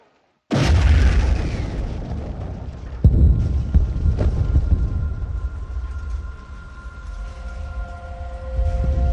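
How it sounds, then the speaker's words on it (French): French cargo ship La Coubre exploding in Havana harbour: a sudden loud blast breaks the silence, followed by heavy rumbling, a second sharp boom and rising wailing siren tones. "La Coubre, un navire français, explose dans le port de La Havane."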